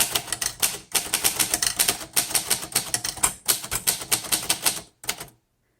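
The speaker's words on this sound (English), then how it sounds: "I can't talk and type." Brisk typing on a 1937 Royal Model O manual typewriter, close and loud, with dense runs of sharp key strikes broken by a few short pauses and a final stop, no voices.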